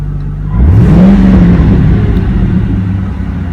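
A Ford Mustang GT with stock exhaust revs up once with a rising growl, then settles into a steady, close idle rumble; no one speaks.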